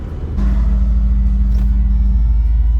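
The engine of a Jeep rumbles loud and close while the driver shifts into four-wheel-drive low range. The low drone suddenly thickens into a steady idle with a humming tone and a faint clunk partway through.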